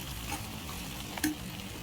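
Sliced okra fries in a pan for a coconut chilli fry, a steady close sizzle with one sharp clink of the stirring spoon partway through.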